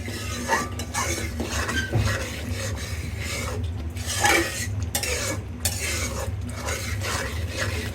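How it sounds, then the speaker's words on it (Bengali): Masala spice paste for beef nihari stirred and fried in a pan, a steady sizzle with repeated scraping and clinks of a spoon against the metal, continuous and close. "মশলাটা ভালো করে কষে আনি"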